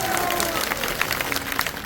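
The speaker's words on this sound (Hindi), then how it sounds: "अरे तो तालियों की गड़गड़ाहट होनी चाहिए।" A crowd at a political rally in Sarangpur, Madhya Pradesh breaks into dense, continuous applause and clapping, steady and fairly loud throughout the short span.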